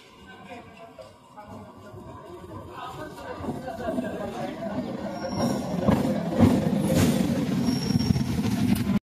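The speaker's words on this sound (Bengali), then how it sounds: "ট্রেনটা আসছে" A train rumbles into a crowded railway station, its noise growing louder as it approaches, while people talk over it.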